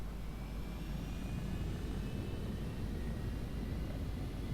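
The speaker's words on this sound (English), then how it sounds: "Engines engaged." Spaceship engines engaging at launch in a space video game: a steady, low, airy roar with a faint whine above it, even and unbroken throughout, with no talking.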